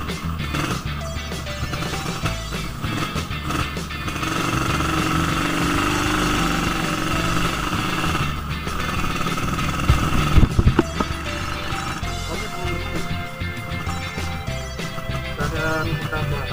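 A Yamaha RX-King two-stroke motorcycle engine runs steadily throughout at close range while riding, a busy buzzing drone with a brief louder burst near the middle.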